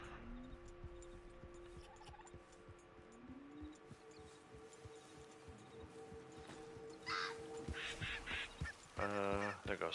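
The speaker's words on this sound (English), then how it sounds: "Those are pheasants." Pheasants call in the Red Dead Online video game, scattered honking cries over low outdoor game ambience, growing louder and denser in a harsh cluster near the end.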